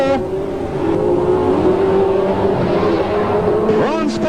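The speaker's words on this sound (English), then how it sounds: "Graham Lawford racing off turn 4" Grand National sedan race cars roar steadily around a track during a heat, a loud sustained engine drone with pitch shifts as cars pass, under an excited race commentator.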